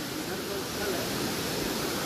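A swollen river during the rainy season rushes over stones, a steady broadband roar of flowing water that stays constant throughout, with no voices over it.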